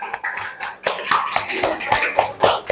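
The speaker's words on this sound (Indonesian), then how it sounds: "Yuk, beri tepuk tangan untuk kelompok 2 agar lebih semangat." A school art class claps for a presenting group, uneven close hand claps and taps in a loose, scattered rhythm, fairly light, with faint voices mixed in.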